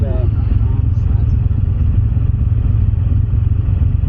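A motorcycle engine runs at a steady idle close by, a dense low rumble with a faint clatter throughout.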